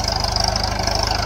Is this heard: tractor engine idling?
yes